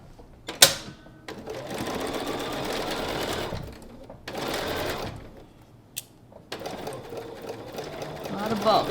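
A sewing machine stitches a bulky quilt block in steady bursts with short pauses between runs, close and fairly loud, while a person talks over the sewing.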